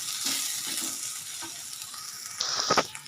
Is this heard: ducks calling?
no